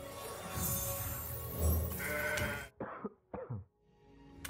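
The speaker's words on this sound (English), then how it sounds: "Excuse me for all the coughing." A person coughs in a few sharp, close bursts near the end after a stretch of background game noise, with rough throat-clearing quality.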